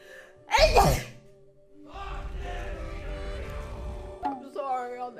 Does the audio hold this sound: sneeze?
yes